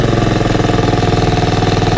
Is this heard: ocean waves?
no